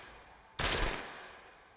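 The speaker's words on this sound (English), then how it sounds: "It's a BB gun. It shoots firecrackers." A weak gun in Resident Evil Village firing a single sharp burst at close range, a short crackling shot that fades quickly into quiet.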